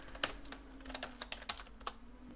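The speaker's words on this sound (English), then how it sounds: "I can just type list of in there" Soft, close computer keyboard typing in an uneven burst of separate key clicks over a low steady hum, with no talking.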